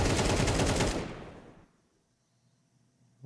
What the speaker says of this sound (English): He does so with a bit of gunfire and a bullet to the head.